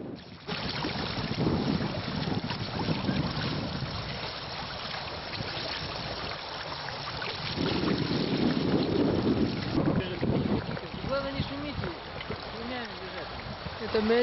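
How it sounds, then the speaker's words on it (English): Strong afternoon wind at a campsite by the Yama River, Siberia, buffets the microphone continuously, a steady rushing roar that swells and eases, with faint voices underneath. "It's quite windy this afternoon"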